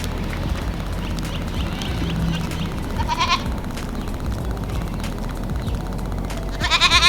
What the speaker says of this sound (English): They're getting bullied around by these big goats.